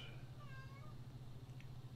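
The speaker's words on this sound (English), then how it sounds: "I don't know if you can hear our cat meowing at my door." A cat meows a few times at a door, faint and somewhat distant, over a steady low hum.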